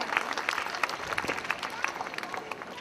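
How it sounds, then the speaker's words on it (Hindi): An audience at a school annual day claps loudly and continuously, dense overlapping applause filling a large hall without a break. "जोरदार तालियां।"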